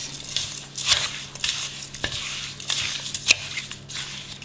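Pork is mixed with soy sauce, fish sauce and brown sugar: wet, squelchy stirring and tossing sounds come close up in irregular pulses, with a few sharper clicks against the bowl.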